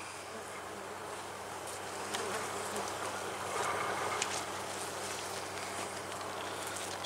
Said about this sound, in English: These bees are so calm right now, I hate having to work them up.